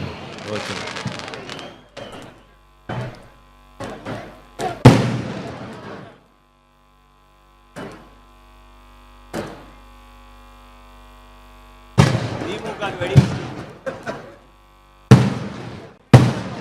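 Sharp firecracker bangs go off at a political campaign event in Tamil Nadu in irregular bursts, some clustered, some isolated, with quiet gaps and a steady electrical hum between them.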